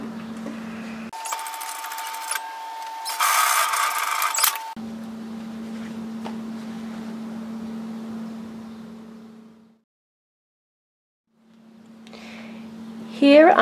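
A sewing machine stitches fabric pieces of a reusable four-cup takeaway coffee holder bag together along a center line, with back tacking at each end; a steady motor hum runs in stretches with louder bursts and a brief pause.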